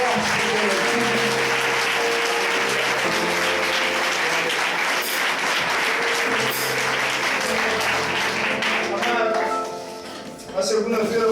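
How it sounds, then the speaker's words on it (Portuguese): A church congregation applauds harder, a loud continuous wall of clapping with scattered sharper claps that carries on for several seconds before thinning and fading near the end. "Aplauda mais forte que tem aqui."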